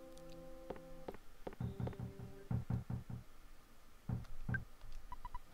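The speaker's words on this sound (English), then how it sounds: "Someone's knocking at the door. What an annoying knock." Knocking on a door in the retro role-playing game Earthbound taps out in small clusters of quick, soft knocks, with faint game chimes around them.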